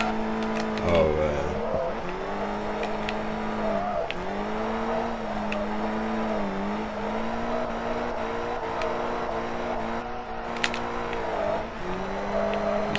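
A car drifting in the Forza racing video game, its engine holding a steady droning rev with brief dips and rises as the throttle shifts, continuous and fairly loud with no talk.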